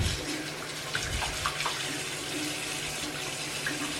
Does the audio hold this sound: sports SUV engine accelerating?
no